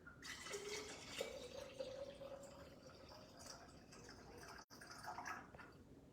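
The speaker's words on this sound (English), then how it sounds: "And I'm gonna fill it up with water." Water pours into a jar of beets and salt for kvass, giving a steady rushing, gurgling fill with a rising tone that runs for several seconds, close and fairly quiet, with no talk.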